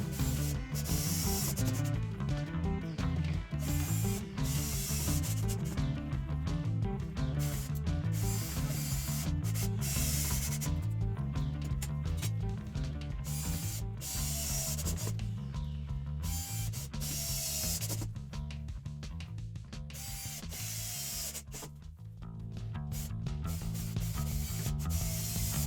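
A power drill whirs continuously while driving screws into a particle board workbench, with a grinding, ratcheting buzz that shifts pitch and briefly dips before resuming, no talking.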